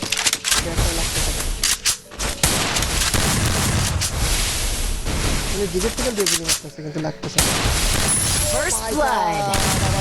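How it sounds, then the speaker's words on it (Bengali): Rapid bursts of video game gunfire crackle almost nonstop, loud and dense, with a voice talking over the action. "সমানে গুলি চালিয়ে যাচ্ছে"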